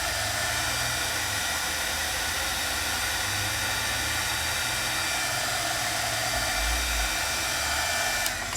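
A heat tool blows steadily, a continuous airy hiss and hum lasting throughout, close and even in level, as it melts polished gold embossing powder from powder to a solid finish.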